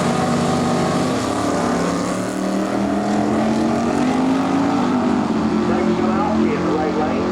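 Jim Oliveri's big block Pontiac Firebird launches down the drag strip in an NHRA Winston divisional race at Delmar US13 Dragway, a loud, steady engine roar filling the whole stretch without a break.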